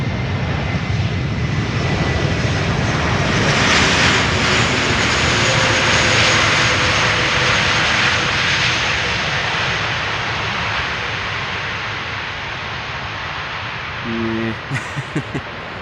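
Jet airliner thrust reversers deploy on landing at Schiphol's Polderbaan runway, a loud, sustained roar from a fair distance that swells, then slowly tapers off, with a few short clicks at the end.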